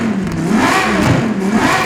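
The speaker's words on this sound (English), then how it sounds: "Turning on the Super Trofeo EVO, I'm going to let you guys listen to it, so mind your ears." A 2018 Lamborghini Super Trofeo EVO racing car revs hard in Forza Horizon 5, its loud, close engine note rising and falling with wavering harmonics over a short burst, no one speaking.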